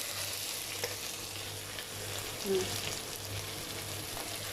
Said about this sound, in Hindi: और इसे कर लेंगे अच्छे से मिक्स